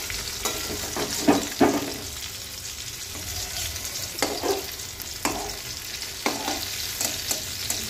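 Food sizzles steadily in a hot frying pan just after being flipped, a continuous crackling hiss broken by several louder scraping clatters of a spatula against the pan, with no talking.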